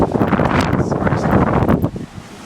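Thunderstorm wind buffets the microphone with loud, rough, continuous rushing, easing off near the end.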